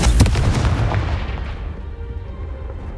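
A Confringo spell blasts in Hogwarts Legacy, one loud close booming explosion with a sharp crack at the start that rolls into a long rumbling decay, alone with no voices.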